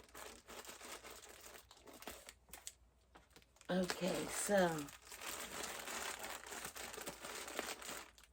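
Scissors snip and tear through packing tape on a parcel, a short burst of crinkly, scraping cuts midway through, with quiet rustling handling before and after and a brief spoken word at the start.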